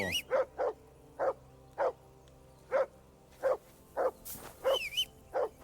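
A dog barks repeatedly in the medieval video game Kingdom Come Deliverance 2, about ten sharp, close barks at an uneven pace, with a couple of whining yips mixed in over quiet background ambience.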